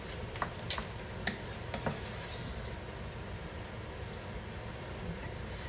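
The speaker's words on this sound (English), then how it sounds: "So the meat is browning very well." Ground meat browns with taco seasoning in a pan, giving a low steady sizzle with a few sharp scrapes and stirring clicks near the start, then a smoother continuous fry.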